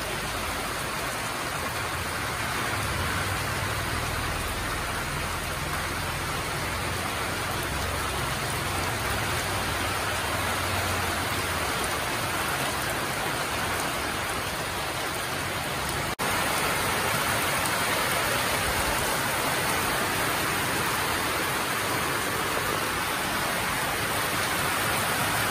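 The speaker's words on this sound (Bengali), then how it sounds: "দেখো কি পরিমাণে বৃষ্টি হচ্ছে, হঠাৎ করে এত বৃষ্টি শুরু হয়ে গেল" Heavy rain pours down without a break, a dense, even hiss of drops on surfaces that stays loud and close throughout, with a slight lift in intensity partway through.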